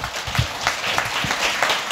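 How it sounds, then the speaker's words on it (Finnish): An audience applauds lecturer Anu Castaneda after a talk on immigrant mental health and discrimination in Finland, with a moderate patter of claps and a few sharper, nearer hand strikes standing out, steady throughout. "annetaan nyt oikein kunnon aplodit vielä Anulle"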